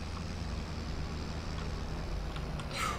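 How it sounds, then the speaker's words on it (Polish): Loud, steady engine drone fills a tractor cab, a continuous low rumble with no letup and no voices over it. "Ale głośno w tym ciągniku"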